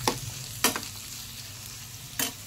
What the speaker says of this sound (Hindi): अब इसमें ये कूटे हुए मसाले डाल देते हैं, अच्छे से मिक्स कर लेते हैं इनको